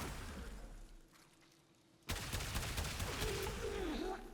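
Incarnon Braton rifle fire in Warframe: a sudden loud burst of gunfire breaks out after a quieter stretch and keeps going densely, with a rising whine over the shots and no talk.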